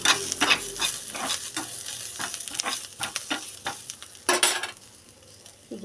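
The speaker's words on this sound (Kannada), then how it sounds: "ಎಣ್ಣೆ ಹಾಕ್ಕೊಂಡು ಸ್ವಲ್ಪ ಫ್ರೈ ಮಾಡ್ಕೋಬೇಕು" Oil frying in a pan while a Kannada village-style katt saaru is cooked, with steady crackling sizzle and repeated scraping stirs, plus a louder burst near the end; no talking.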